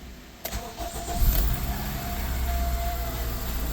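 A car engine cranks briefly, catches, and settles into a loud, steady idle that keeps running.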